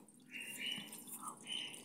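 Filtered water flowing out of an Aguatec aquarium filter after passing through activated carbon, a soft, continuous trickle and splash close by, with no talking.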